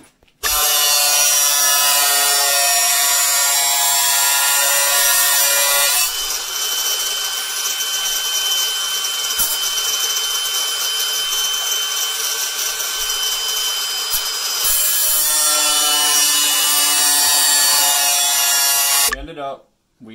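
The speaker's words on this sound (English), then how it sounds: "we made a little square, cut it out with the grinding wheel" Grinding wheel cutting a small square out of metal, a loud continuous harsh whine that holds steady for long stretches, changes tone midway and stops abruptly near the end.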